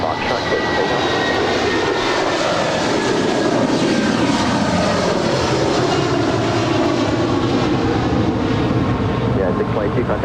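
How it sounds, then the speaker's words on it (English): A fixed-wing airliner roars down runway 25 right at Los Angeles International Airport on its takeoff roll, a loud, steady jet-engine rumble filling the whole stretch with broadband noise that swells slightly midway. "runway 25 right at Foxtrot, clear for takeoff"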